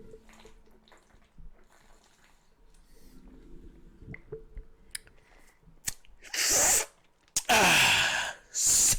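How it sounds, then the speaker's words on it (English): Someone pauses mid-conversation to drink water, with soft mouth sounds and small bumps followed by a few loud gulps and swallowing bursts near the microphone toward the end. "Let me drink some water."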